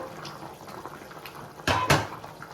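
Nellore-style Koramenu fish curry bubbles and simmers in a pot, with a sudden burst of stirring or sizzling noise near the end; no talking.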